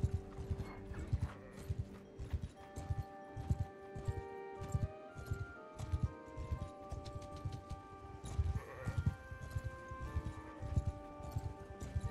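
Horse hooves clip-clop in Mount & Blade II: Bannerlord, a steady rhythmic trot of many close, fairly loud hoofbeats with faint harness clatter and game ambience underneath.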